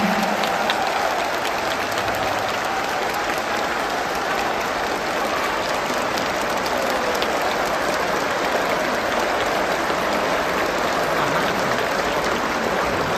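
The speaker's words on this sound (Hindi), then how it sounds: "मैं आप सभी से अनुरोध करूंगी कि आप तालियों की गड़गड़ाहट से माननीय प्रधानमंत्री जी का अभिवादन करें" Audience applause greeting the Prime Minister at the Bodoland Mahotsav in Delhi, a dense, continuous roar of many hands clapping at steady loudness throughout, with no talk.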